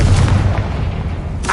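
A Confringo fire-blast spell explodes in the Hogwarts Legacy video game, a loud, close, deep boom with a rumbling tail that fades before a brief burst at the end.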